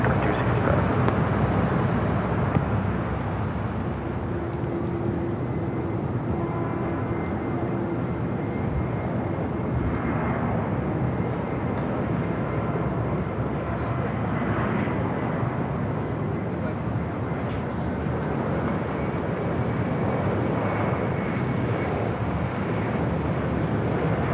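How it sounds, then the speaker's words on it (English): Southwest Boeing 737-700 airliner in a special Maryland livery at Los Angeles International Airport; a broad, steady engine roar lasts the whole stretch, fairly loud and continuous, with radio voices faintly mixed in. "Followed by that Southwest special livery, the Maryland 1 livery, coming from Oakland, California, to 737-700."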